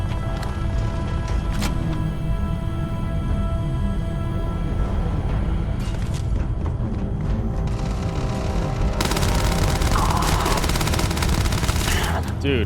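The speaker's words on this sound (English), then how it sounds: "Little SMG work." SMG gunfire in the video game Starfield, with rapid, steady bursts of shots over a busy game soundscape and an especially dense stretch of firing toward the end.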